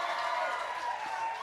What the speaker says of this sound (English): give them a stadium round of applause for the brilliant ROXY Mash